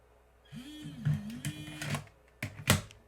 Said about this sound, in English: Let's eject the disk.